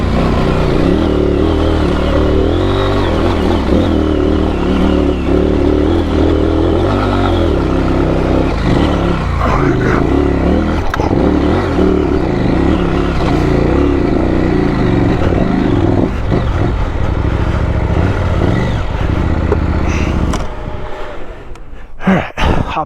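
An off-road motorcycle on Dunlop Trailmax Mission tires runs with a loud, steady engine drone close by, holding throughout before cutting off abruptly near the end.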